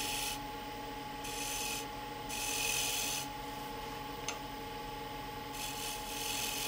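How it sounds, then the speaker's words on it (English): Hand scraper shear-scraping a flat wood surface, making steady rasping strokes in several long passes with brief gaps between them, close and fairly loud. "So just shear scrape this when I start"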